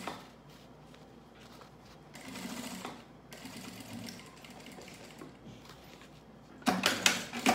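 A sewing machine stitches a seam in several bursts of rapid mechanical whirring and clatter, with quiet pauses between runs and a louder final burst near the end.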